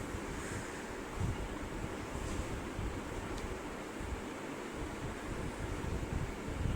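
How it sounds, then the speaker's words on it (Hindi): Chicken korma frying in ghee as water is splashed into the pan gives a steady, dense, loud sizzle that hisses continuously throughout, with no voices. "हल्का हल्का इसके अंदर पानी का हम थोड़ा थोड़ा छींटा दे के इसको भूनते जाएंगे"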